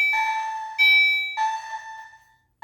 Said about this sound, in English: And there's that weird chime strobe over there.